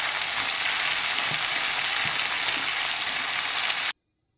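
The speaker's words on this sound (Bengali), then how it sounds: "এর মধ্যে আমি এবার কাঁচা টমেটোগুলো ছেড়ে দিচ্ছি।" Green tomatoes hitting a pan of frying potatoes bring a loud, steady, close sizzle that runs without a break and then cuts off abruptly near the end.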